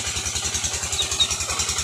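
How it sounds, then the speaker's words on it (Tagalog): A small water pump engine chugs steadily nearby beside a duck pond, its low rapid thumping pulse continuous and unchanging throughout. "pasensya na po kayo sa ingay ng makina"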